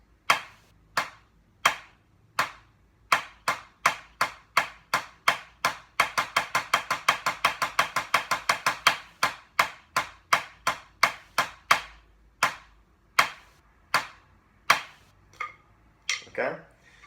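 Drumsticks strike a marching snare practice pad, centred, in a crisp, evenly spaced exercise: single taps open up, a fast dense roll runs through the middle, then spaced strokes return. The strokes are close and dry, with no voices.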